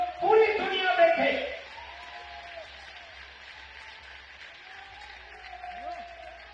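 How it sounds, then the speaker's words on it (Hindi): Audience applause at a Sanatan Hindu Ekta Padyatra gathering for a young devotee, a loud burst of clapping in the opening second and a half that then fades into a faint, sparse murmur. "जोर से एक बार इस युवा देशभक्त धर्म भक्त के लिए ताली बजाइए"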